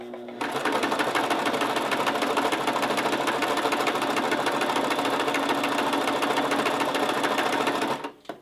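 A sewing machine stitches fabric in a steady, rapid mechanical whir, running loud and continuous for about eight seconds before stopping abruptly.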